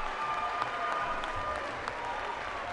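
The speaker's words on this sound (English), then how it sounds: "Can we just give a hand clap offering to our guardian angel?" A crowd at a high school graduation ceremony gives a steady round of hand clapping, dense and even throughout with no pauses, sounding like a packed hall applauding together.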